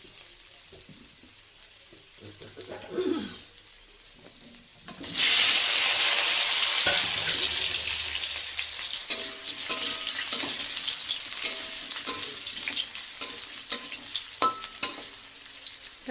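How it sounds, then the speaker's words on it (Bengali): Potatoes fry one by one in hot oil for a jackfruit kofta curry. A loud, steady sizzle bursts in partway through and stays close, with occasional stirring and clinking. No one speaks. "এই যে আলুগুলো এক এক করে ভেজে নিচ্ছি"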